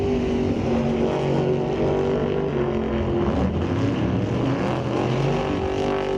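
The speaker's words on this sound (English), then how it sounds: "Both cars leaving the line nice and clean, but Brad Powell runs a 458" Two drag racing cars launch together off the start line at a Northwest National Open Series event at Mission Raceway, a loud, steady engine roar filling the scene with no speech.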